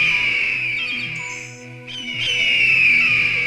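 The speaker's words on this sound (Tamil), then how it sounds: "அந்த 2 கழுகுகளும் ரொம்ப சத்தமா கத்திக்கிட்டு இருந்துச்சு" Two eagles screeching loudly in an animated Tamil children's story: shrill, sustained, tonal cries that dip briefly in the middle and then swell back, loud and close.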